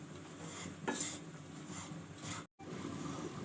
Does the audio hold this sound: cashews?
yes